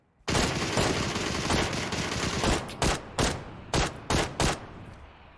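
Automatic gunfire in the battle-royale game PUBG on PC: a long sustained burst of rapid shots followed by several short separate bursts, loud and close with no talk over it.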